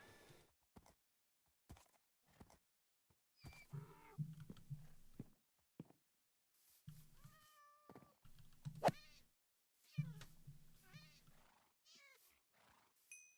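Several short synthetic meows from a cat in a farming video game, spaced across the clip, with soft thuds and game noises between them and brief pauses of near silence.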